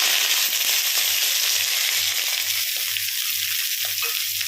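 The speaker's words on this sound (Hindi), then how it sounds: "इनको हल्का सा कलर चेंज होने तक भूनेंगे।" Garlic, ginger, cashews and a large tomato fry in hot oil until lightly coloured, making a dense steady sizzle with a faint rhythmic low throb running beneath it.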